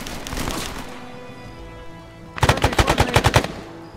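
Video game gunfire comes in a quick burst of about eight loud, punchy automatic shots in a tight rhythm, following a quieter stretch of ambient noise and a brief rush of sound at the start.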